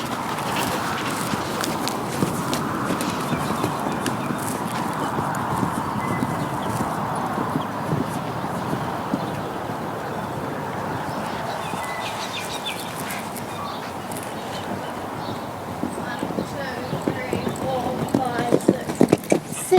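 A horse cantering around a corner in a show-jumping arena, its hooves beating a steady, rhythmic clip-clop throughout, with voices in the background.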